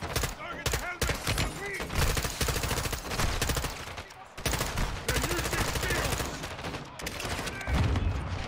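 Dense automatic gunfire rattles almost nonstop in a Modern Warfare 2 campaign firefight, loud and close, with rapid bursts overlapping and only brief lulls.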